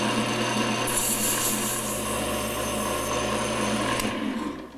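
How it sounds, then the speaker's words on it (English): Steady, close rasping of fine-grit sandpaper rubbed back and forth over a wooden workpiece in a woodworking shop, continuous and even for several seconds with no talking. "This sandpaper will make it a little bit smoother,"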